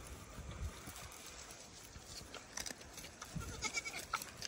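Goats bleat a few times at an animal rescue, short calls rising over a noisy outdoor background with running water, fairly close but not loud.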